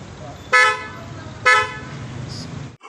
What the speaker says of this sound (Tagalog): Tapos yung loud horn.